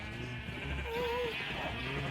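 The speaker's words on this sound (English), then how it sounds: "I think I see a sheep back there." Sheep bleating in a video game, a couple of short wavering bleats at moderate distance over a steady low background hum, with faint talk-like sounds underneath.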